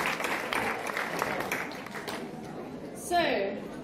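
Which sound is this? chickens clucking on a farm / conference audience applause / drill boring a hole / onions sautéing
conference audience applause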